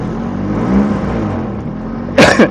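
A used car's engine runs steadily at idle with a low, even hum, then a sharp rev swells briefly near the end and falls back.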